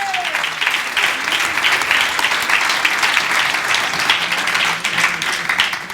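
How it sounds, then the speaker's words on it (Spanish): A church congregation applauds in sustained, dense clapping that fills the room at a steady level, with a voice briefly heard at the start. "Dele palmas al Señor."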